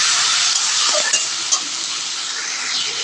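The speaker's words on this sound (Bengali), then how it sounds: "এই তেলের মধ্যে টমেটো পেস্ট দিয়ে দেবো। টমেটো পেস্টটা একটু নাড়িয়ে দেবো।" Tomato paste stirred in hot oil with nigella seeds, a steady bright sizzle throughout with a few soft scrapes of the spoon against the pan, close and fairly loud, no voices.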